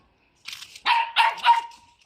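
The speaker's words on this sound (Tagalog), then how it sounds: "Nagagalit yung aso mo." A dog barks angrily outside a house during hot-weather yard clearing, giving a quick run of three or four loud, close, sharp barks that rise and fall over about a second and a half.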